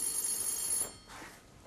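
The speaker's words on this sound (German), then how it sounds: "es ist auch schön, wenn das Telefon geht im Lesesaal der" A telephone rings in a city library reading room in a comedy sketch, a bright electric bell trill that stops abruptly, followed by faint quieter shuffling.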